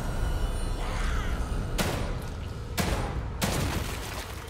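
Gunfire in The Evil Within 2 over a loud, dense background, with three sharp broadband shots ringing out at irregular intervals, close and punchy.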